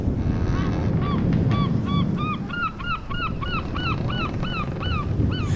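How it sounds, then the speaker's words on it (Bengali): Sharp, honking seabird cries come in a rapid repeated series over the steady rush of a storm, used as a sound effect in an audio drama, and the calls stand out clearly above the weather. "শুধু এই ঝড় বৃষ্টির মধ্যে কখনো কখনো শোনা যাচ্ছে সামুদ্রিক পাখির তীক্ষ্ণ আর্তস্বর।"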